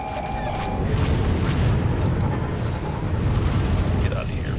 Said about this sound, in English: Enemy missile fire.